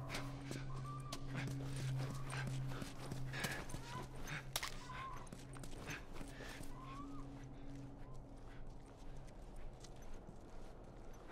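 Horse hooves clip-clop in the video game The Last of Us, a steady walking rhythm of soft hoofbeats heard fairly close under ambient outdoor game sound and a low tone, with no speech.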